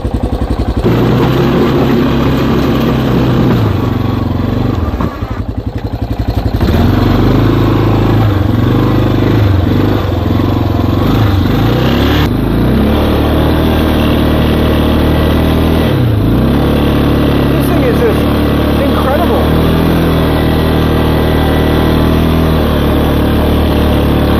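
Yamaha Big Bear ATV pushing snow in a winter storm, its engine loud and close, running continuously with repeated revving surges and easing off between pushes.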